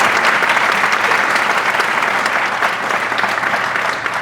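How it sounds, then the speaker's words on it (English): An audience at a medical school fireside chat claps steadily, a dense, even wash of applause that thins out toward the end. "So please give him a round of applause"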